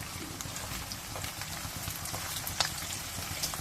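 Chopped onion frying in oil for a beef liver bhuna, giving a steady crackling sizzle with a few sharper pops, close and fairly quiet.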